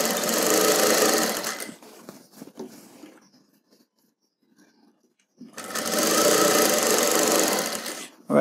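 A sewing machine stitching the edge of a fabric mask runs in two loud, steady whirring bursts of a few seconds each, separated by a quiet pause with faint handling sounds.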